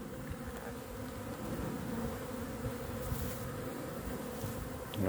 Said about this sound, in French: je pense qu'il y a pas mal d'abeilles au boulot.